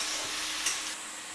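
Tomatoes and green chillies being stirred in a pan, a faint steady sizzle with a quick scrape of the spoon, short and without speech.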